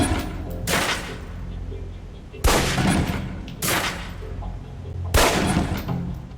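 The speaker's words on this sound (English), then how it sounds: "Equip the pistol, then aim down range and take some shots at the target." Pistol shots at a target range in the 2010 game Alpha Protocol ring out loud and sharp, four separate cracks spaced a second or two apart with quiet background between.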